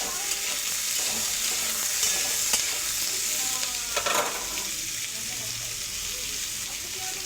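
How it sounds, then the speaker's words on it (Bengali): Potato and eggplant pieces stir-fried in a pan, a steady close sizzle with intermittent scraping and stirring strokes throughout, no talking. "আলু বেগুনটা ভালো করে ভাজা হয়ে গেলে"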